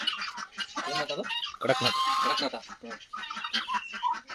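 Chickens cluck busily at a resort farm, with overlapping calls and squawks, close and fairly loud, continuing through the whole stretch.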